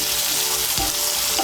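Chopped ginger and garlic fry in a pan for a Bengali chana dal tadka, giving a steady, loud, close sizzle with a brief stirring scrape near the middle and no voices.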